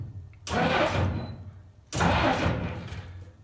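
A 1965 Jeep CJ5 engine cranking over in two long, loud bursts of harsh, broadband churning, separated by a short pause, with no voices.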